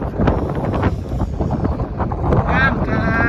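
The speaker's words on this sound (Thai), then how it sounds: "ถ้าไม่มีลมนี่จะโอเคเลยนะแต่นี่มันมีลม" Steady wind buffets the microphone on the open deck of a passenger ship with a pool, a constant loud rush with low rumble throughout, while people talk nearby.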